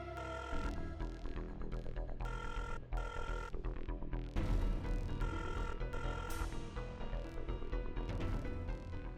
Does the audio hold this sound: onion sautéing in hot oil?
no